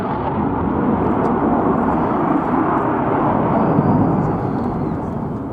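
A French Air Force Dassault Rafale C fighter jet at an air show roars steadily overhead, a loud, continuous broadband rumble sustained throughout without breaks.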